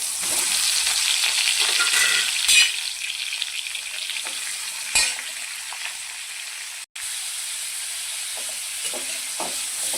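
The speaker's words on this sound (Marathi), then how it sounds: "त्याच्यामध्ये एक पळी तेल ओतून मस्त पनीर फ्राय करून घेऊया" Paneer cubes frying in oil in a kadhai give a steady, close sizzle with occasional scrapes and clinks of a ladle stirring, one brief dropout midway.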